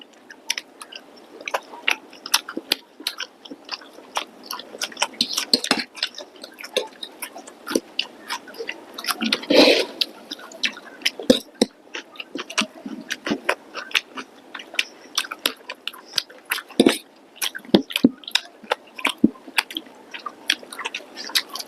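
Close, wet chewing and crunchy bites on fried chicken Manchurian, irregular smacking mouth sounds continuing throughout with occasional louder crunches.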